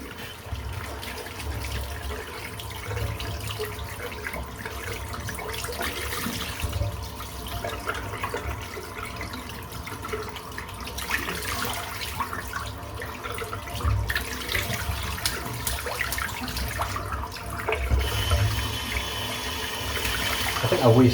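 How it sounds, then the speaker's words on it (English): A shaving brush is rinsed under a running tap, water gushing and splashing continuously into a sink for about twenty seconds, close and fairly loud, with irregular surges as the brush is worked under the stream. "Just going to rinse the brush out."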